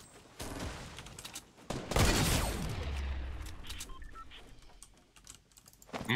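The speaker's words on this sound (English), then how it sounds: "Minigun." A minigun fires in a video game, letting out a dense, roaring burst of rapid shots that comes in hard and keeps rattling on for several seconds.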